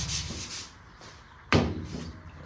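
Evercoat 4:1 polyester primer on a car fender panel is sanded by hand in soft, close rubbing strokes, followed by a sharp knock and more scraping strokes.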